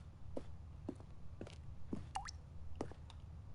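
Water dripping in the video game The Stanley Parable, a series of distinct echoing plops and drips at irregular intervals over a low rumbling ambience, fairly faint, with no talking.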